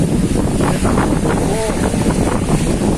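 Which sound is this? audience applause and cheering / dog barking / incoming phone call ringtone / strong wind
strong wind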